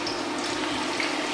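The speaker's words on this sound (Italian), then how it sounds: "le andiamo a scolare per bene." Washed sliced potatoes being drained after rinsing in cold water, a close, steady rush of water running off for a brief moment, with no talk.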